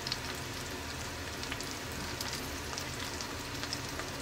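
Soybeans fry steadily in hot oil for chilli soybean, giving a continuous, dense crackling sizzle with no talk.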